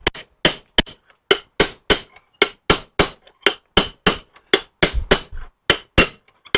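Steady series of sharp metallic taps as a part is driven into a 1955 Triumph TR2 overdrive unit with a socket, about sixteen close, loud strikes at a regular rhythm with no talking.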